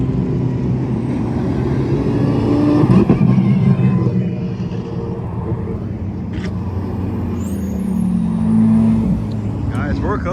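Supercars including a Lamborghini Diablo SV and McLaren P1 rumble and rev past on the street during Monterey Car Week, a continuous engine roar with swells, while people talk excitedly nearby.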